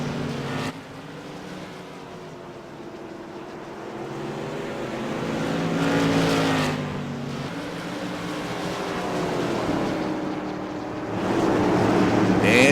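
Tour Modified race cars run side by side at Irwindale Speedway, their engines rising and falling in sweeping passes under a commentator's voice, loud and near with a fresh surge at the end.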